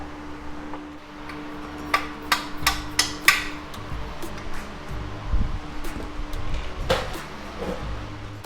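Hammer tapping suspension arm parts into place on a vehicle, a quick run of four or five sharp metallic taps, then a few scattered knocks, fairly close in a quiet workshop.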